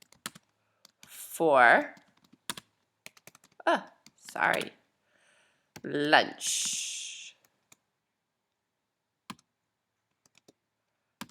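Sparse, quiet keyboard clicks between stretches of close speech, then isolated taps in near silence.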